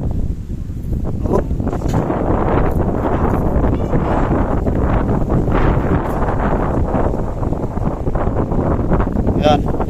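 Strong wind buffets the microphone high on Mount Samat in Bataan, Philippines, a loud, steady, rumbling roar that continues throughout with faint voices underneath.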